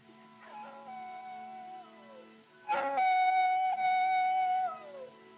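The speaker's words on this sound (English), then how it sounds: "Them coyotes give me the creeps. It sounds, well, it sounds just like a baby." Coyotes howling in the night in a 1939 western, long wavering and sliding howls: one cry, a short pause, then a louder overlapping chorus of rising and falling wails, no speech.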